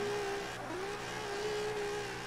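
A drifting car's engine screams at a steady high pitch in Forza Horizon 4, wavering briefly as revs dip and recover, held fairly faint but constant throughout.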